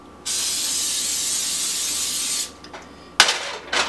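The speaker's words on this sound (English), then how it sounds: "Got my non-fat cooking spray here. This is sizzling." Non-fat cooking spray hisses in a steady, fairly loud burst for about two seconds onto a hot pan, then stops, followed by a brief clink and faint sizzle.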